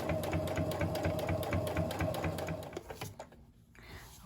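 A Kenmore 385 series sewing machine runs a twin needle through scrap fabric, a fast, even mechanical chatter of stitching that slows and stops near the end, leaving a quiet pause.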